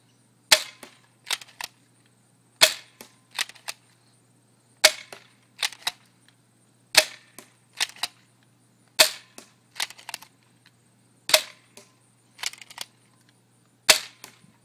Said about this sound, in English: Today I got a shooting of the JT SplatMaster z100.